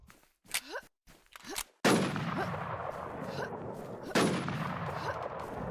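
Gunfire from an M107 sniper rifle in a video game: two sharp, loud booming shots a couple of seconds apart, each trailing off into a long rumbling echo, after brief game sounds and a voice.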